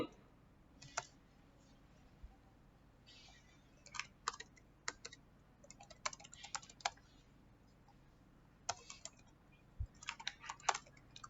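Computer keyboard typing in short, irregular bursts of crisp clicks, fairly close and quiet, with pauses between flurries and no talking over it.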